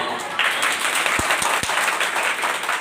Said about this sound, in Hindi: बहुत बहुत धन्यवाद, बहुत कम ताकत से तालियां बजाने के लिए